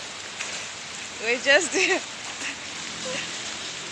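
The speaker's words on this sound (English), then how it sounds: "We got another rain" Steady rain falls in an outdoor setting, a constant soft hiss of drops hitting surfaces, with a person speaking briefly over it.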